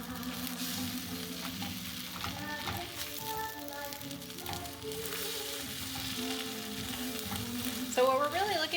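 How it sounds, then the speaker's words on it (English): Eggs frying in a pan hiss and crackle steadily while being stirred, the sizzle soft and even at close range, with faint tonal background sounds and a brief louder scrape near the end. "you are going to want to keep the eggs moving"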